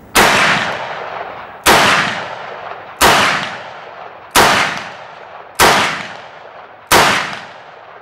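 A Smith & Wesson Model 686 revolver in .357 Magnum fires six loud, sharp shots at a steady pace about 1.3 seconds apart. Each crack rings out and decays briefly before the next.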